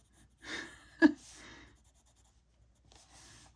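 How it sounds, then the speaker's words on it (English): Colored pencils scratch on paper during coloring in a few quiet, short bursts of scraping strokes separated by near-silent gaps. "Always cracks me up when I can hear my pencils."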